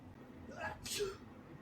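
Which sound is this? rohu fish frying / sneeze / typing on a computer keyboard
sneeze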